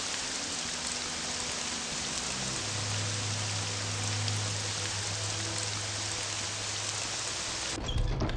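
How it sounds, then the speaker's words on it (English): Heavy rain in the video game Morrowind pours as a constant broadband hiss, with a low hum rising midway and a brief disturbance at the very end, and nobody talks. "It rains a lot here"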